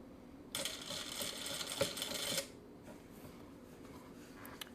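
A Vevor M2 sewing machine stitching piping cord, running in a close, steady burst of rapid mechanical clatter for about two seconds before stopping, followed by faint handling sounds.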